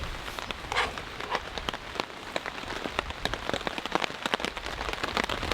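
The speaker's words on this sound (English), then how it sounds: "it's raining quite hard right now." Hard tropical-storm rain falls through a mountain forest under gigantic trees, a dense hiss broken by frequent sharp drips and splats nearby, steady and fairly quiet, with no talking.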